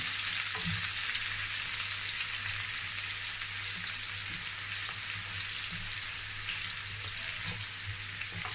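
Chopped onions fry in hot oil in a pan, giving a steady, close hiss of sizzling with faint stirring clicks throughout and no voices.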